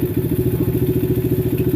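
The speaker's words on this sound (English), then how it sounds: "Did you notice the difference in the engine sound when the choke was closed and when the choke is now in the open position?" A 50cc–250cc dirt bike engine idles with the choke open, a loud, steady, rapid low-pitched chugging pulse that runs evenly throughout with no voices.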